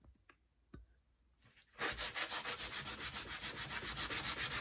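A wipe rubs across a dirty Cricut cutting mat. A quiet, steady back-and-forth scrubbing follows a few soft taps. No one speaks.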